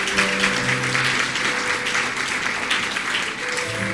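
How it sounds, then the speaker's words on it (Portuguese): A church congregation claps after an offering announcement at a revival service, a dense, even wash of applause that continues throughout, with faint sustained tones underneath. "Você pode aplaudir ao Senhor?"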